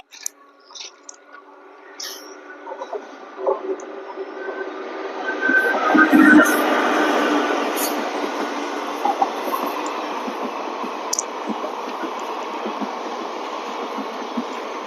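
A train rolls past, a rumbling clatter that builds to a loud peak and then continues steadily with rattling wheels, no talking.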